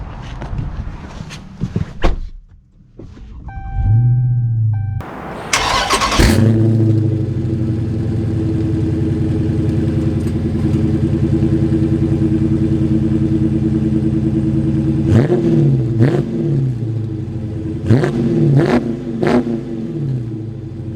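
A Dodge Challenger Scat Pack Widebody Shaker V8 starts up after a few faint cabin clatters, then idles and drives with a steady deep rumble, swelling in several throttle blips and revs near the end.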